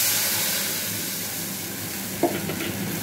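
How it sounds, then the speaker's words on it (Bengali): Hot oil with fried cardamom and cinnamon sizzles steadily, then a short splash and hiss as spice paste is added for doi paneer, the frying continuing loud and even afterward. "এবার আমি এই মশলাটা দিয়ে দেবো"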